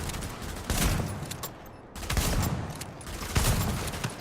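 Rifle gunfire in the game Tom Clancy's The Division comes in loud, rapid bursts of shots, broken by a short pause before another volley.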